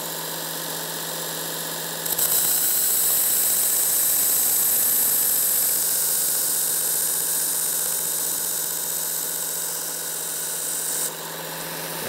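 A belt sharpener grinds a Benchmade Infidel spear point knife under light pressure. After a quiet start the motor's steady whining hum runs evenly for several seconds, then cuts out abruptly.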